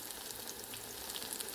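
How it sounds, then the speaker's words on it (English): Plantain slices fry in a pan with a steady, soft, close sizzle and fine crackle, no voices over it. "So I actually have had these frying for a few minutes and just made my first turn."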